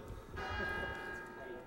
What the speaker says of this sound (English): Tell us about the bells. They go on.